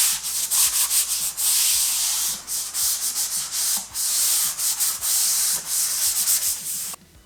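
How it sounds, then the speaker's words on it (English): Hand sanding along a drywall inside angle, steady back-and-forth rasping strokes in a close, loud rhythm of roughly two strokes per second, with brief pauses between passes and no speech. "and this is how we sand our angle."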